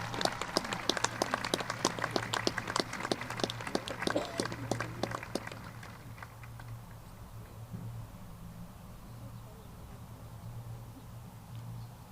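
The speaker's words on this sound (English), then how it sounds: "Can we have another big round of applause for our talented students?" Applause from an audience at a 2019 high school commencement, a dense burst of clapping for student musicians that fades out after about five seconds, leaving a quiet hall with a steady low hum.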